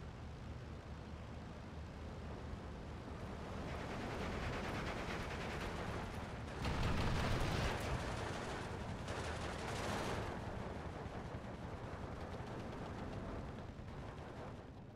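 Off-map artillery shooting in the World War II strategy game Steel Division II, a dense, rumbling barrage of booming shots and gunfire that swells louder midway and keeps rolling without pause.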